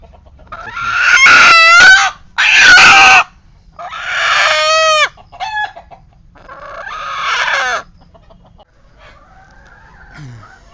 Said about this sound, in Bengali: এটা একটা মোরগ